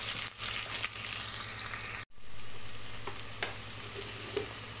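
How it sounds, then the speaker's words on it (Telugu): Crushed garlic fries in hot oil until golden brown in a pan for cucumber dal curry, giving a steady close sizzle with a brief break and occasional light stirring taps. "ఎల్లిపాయలు గోల్డెన్ బ్రౌన్ కలర్ వచ్చే వరకు వేసుకోవాలి"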